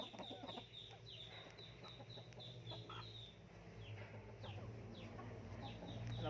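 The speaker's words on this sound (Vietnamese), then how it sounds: "Năm tháng mới biết gáy có mấy tiếng." A five-month-old Asil rooster at a poultry farm clucks and calls repeatedly at close range, with short rising notes over a steady low background hum; no clear full crow stands out.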